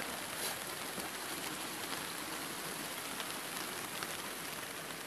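Steady rain falls at a mountain shrine near a waterfall, a dense, even hiss of drops that runs unbroken throughout, fairly faint and with no voices.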